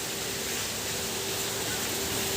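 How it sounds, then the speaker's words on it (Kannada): Heavy rain pours in a steady, dense hiss that stays even and continuous throughout, with no voices. "ಮಳೆ ತುಂಬ ಇರೋದ್ರಿಂದ ಹಾಗೆ ಓಕೆ ನೆನ್ಕೊಂಡೆ ಬಂದ್ವು."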